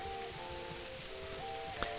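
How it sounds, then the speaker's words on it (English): Rainfall in the medieval game Manor Lords hisses steadily and close, an unbroken wash of drops under faint held music notes, with one small knock near the end. "Nice rain sound effects."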